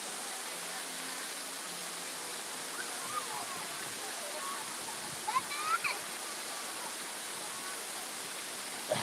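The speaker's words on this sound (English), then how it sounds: "Your little water feature for the day." A small water feature at Epcot splashes steadily as an even, broadband wash of falling water, moderately loud and unchanging, with a few faint background sounds.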